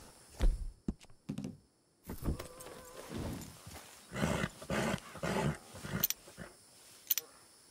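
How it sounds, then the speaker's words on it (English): A dog in the Red Dead Redemption 2 video game makes growly, panting noises and short vocal bursts among hoof clops and other game sounds. "You're a good dog."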